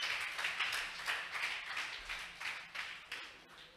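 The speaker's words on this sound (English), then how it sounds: "Let's clap for him once more" A church congregation claps together in praise of God, a steady rhythmic patter of many hands swelling and easing in regular pulses over a few seconds, with no voices.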